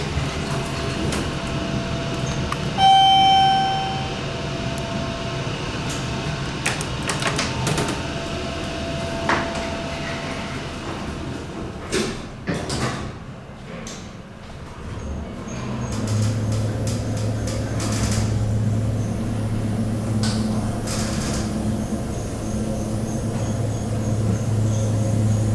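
A traction elevator travels between floors in the One Main building in Washington, DC, giving a steady low mechanical hum and rumble with a chime, door and clunk sounds along the way, fairly close, with no talk.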